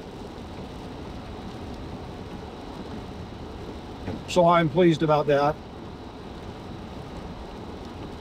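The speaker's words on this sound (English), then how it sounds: "This is one hell of a rain." Heavy rain falls steadily in the Colorado Rockies between Leadville and Wolcott on a cool June day, a constant broadband wash heard throughout while someone speaks briefly near the middle.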